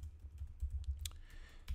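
Someone types a short command on a computer keyboard, a few soft, close key taps over a low, faint hum, quiet overall.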